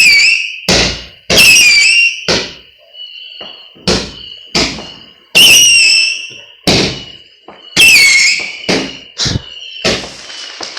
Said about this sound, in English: I guess someone else has a cake firecracker because I hear another one.